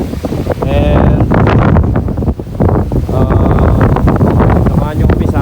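Strong gusty wind buffets the microphone in loud rushing bursts, with people talking underneath.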